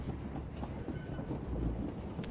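A train rolls along steadily in a Star Wars video game set in Lorhin's Smuggler's Haven on Umbara, with a continuous low rumble and faint clickety-clack for a couple of seconds and no talking.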